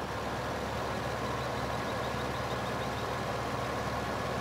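A tractor in modded Farming Simulator 2015 runs with a steady, low engine drone, continuous and moderately loud with no talk over it.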